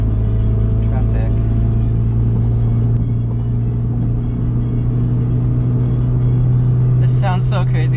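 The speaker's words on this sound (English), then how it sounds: "Well, even in 5th gear, I can accelerate out of this traffic." A car with a newly installed MFactory 4.928 final drive accelerates in fifth gear through traffic. Its steady engine drone and low rumble are loud and close throughout, with faint chirps of other noise near the end.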